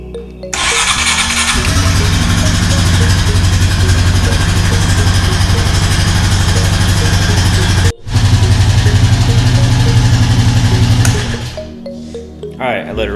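A Honda Rancher ATV engine starts after a fresh oil change and settles into a loud, steady idle that runs close by. It cuts out briefly partway through, catches again, then fades out at the end.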